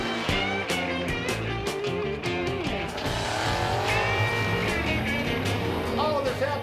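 Cars roar down the quarter-mile drag strip at Cordova Dragway Park, loud and close, with a dense, rumbling engine drone punctuated by sharp cracks and bursts of acceleration.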